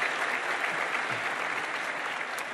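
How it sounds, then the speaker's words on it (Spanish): A congregation at a men's church convention applauds steadily, a dense and even wash of clapping that lasts the whole moment at moderate loudness, with no break. "dale el aplauso al Señor"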